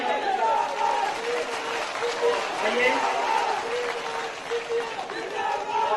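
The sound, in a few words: crowd applauding at election rally for Scindia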